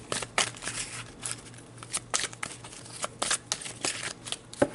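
Tarot cards being shuffled before a reading, a series of crisp riffling bursts and soft slaps repeating close up, with no talking.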